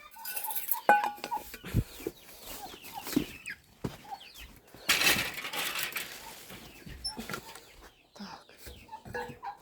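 Backyard chickens, older chicks and bantams cluck and peep at close range in a garden, with scattered calls, a few flapping wings and rustling between quieter pauses.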